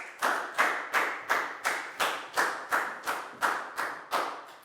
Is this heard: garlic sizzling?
no